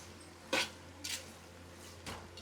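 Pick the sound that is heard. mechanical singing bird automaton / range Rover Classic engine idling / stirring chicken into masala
stirring chicken into masala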